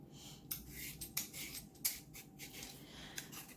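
Sweet potatoes are peeled by hand, giving a series of quick, crisp scraping strokes in an uneven rhythm. The strokes are close and fairly quiet, with no talking.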